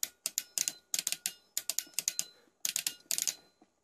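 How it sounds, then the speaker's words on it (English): Ratcheted joints of a Fans Toys FT-04 Scoria transforming robot figure being posed, sharp clustered clicks in quick bursts with short pauses, close and clear with no talk. "The articulation is nice and clicky. Listen to that."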